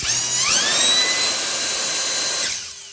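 A small racing motor spins up to 124,000 RPM with a loud, close, high-pitched whine that climbs quickly, holds steady for about two seconds, then winds down.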